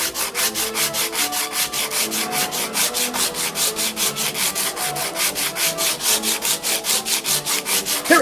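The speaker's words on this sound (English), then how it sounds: "Sanding, shaping, sanding." Steady rhythmic sanding strokes rasp back and forth across a wooden chopping board being shaped into a guitar body, loud and close, each pass repeating at an even pace without any voices.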